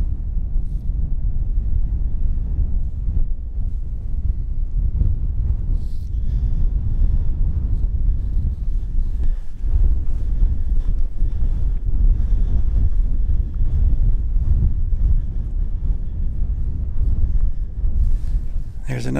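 Strong, gusting wind buffets the microphone outdoors on open hills in the Red Rock Coulee natural area of Alberta, a constant loud low rumble and roar with brief flurries, no talk heard.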